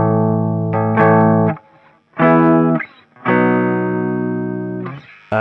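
Distorted electric guitar on the bridge pickup plays sustained bar chords in three or four separate strums with short silences between them, close and loud.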